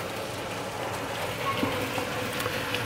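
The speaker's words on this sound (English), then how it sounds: "You can probably hear that it's raining today." Rain falling in Moscow, a soft, steady hiss with occasional faint drops, continuous and fairly quiet throughout.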